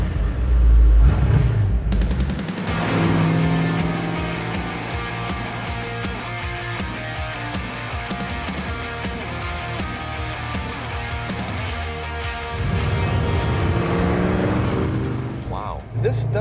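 A BMW engine with a modified exhaust starts with a heavy low rumble, then idles with a throaty drone and swells again near the end, with people talking over it.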